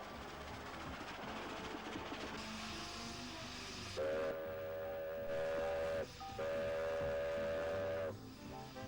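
A British steam locomotive runs with a steady hiss and rumble, then gives two long, loud whistle blasts from about four to six seconds and again from six and a half to eight seconds, with no talking.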